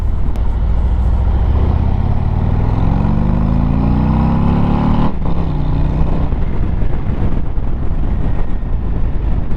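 A Harley-Davidson Road Glide ST touring motorcycle accelerates hard on an open road, its engine note climbing steadily through a gear, dropping at a shift and pulling again under heavy wind rush, recorded close and loud.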